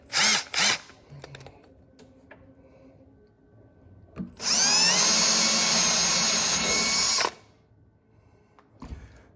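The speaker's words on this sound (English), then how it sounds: "Change that guy out, put our drill bit in" A power drill runs in one steady, loud burst of about three seconds, boring a hole while trim tabs are fitted to a 34-foot monohull boat, with brief clicks and handling noises before and after.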